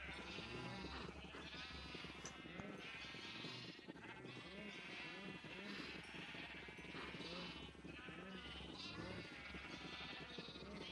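Sheep bleat repeatedly in Minecraft, their calls overlapping steadily throughout over constant game noise, while someone talks.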